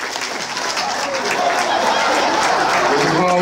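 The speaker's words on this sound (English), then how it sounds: "welcome him with a real rousing round of applause" Comedy club audience at the Funny Bone in Toledo breaking into applause and cheers that swell and grow louder, with a host's voice carrying over the crowd.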